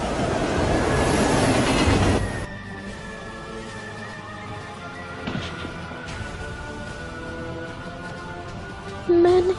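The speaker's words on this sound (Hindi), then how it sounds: "ट्रेन आ रही है।" A train rumbles loudly at first, then drops to a lower continuous rail noise with a faint sustained squeal and occasional clanks, ending with a sharp burst of noise.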